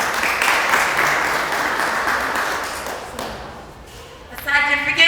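An audience at a girls' empowerment project launch applauds in a dense, sustained patter that gradually thins out, followed by a speaker's voice cutting in near the end.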